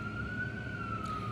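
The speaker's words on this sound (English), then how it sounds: "If it ain't firefighters, it's a police siren." A police siren on a street in the South Bronx, New York, a steady wailing tone heard at a distance over low traffic rumble, continuous throughout.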